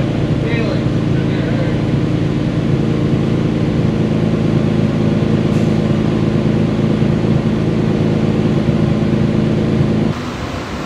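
A tuned 1100HP Nissan R35 GT-R running on pump gas makes a loud, steady, droning pull that holds close and even for about ten seconds before cutting off abruptly.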